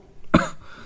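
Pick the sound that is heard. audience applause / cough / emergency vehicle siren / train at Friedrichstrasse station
cough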